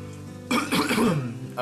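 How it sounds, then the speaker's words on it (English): A character in a café coughs once, a short, close, throaty burst with a softer tail, followed by a quick second catch. "Pardon me, I have the coughs."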